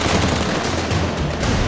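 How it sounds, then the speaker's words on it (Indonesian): Corn kernels pop furiously in a covered pan, a loud dense crackle of rapid overlapping bursts close up with no talk. "Biji-bijiannya meledak di wajan."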